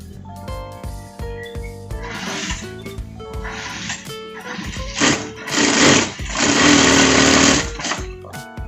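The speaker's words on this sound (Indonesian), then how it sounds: "Lalu kita jahit lagi" Sewing machine stitching parka jacket fabric for a front pocket, starting with slow uneven clicks and building into loud steady whirring runs, close and alone.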